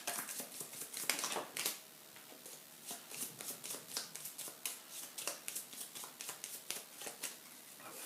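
Playing cards being discarded and drawn during a solo tabletop session of the Apex card game: a steady run of crisp shuffling and snapping card sounds, close and fairly quiet, with no talking.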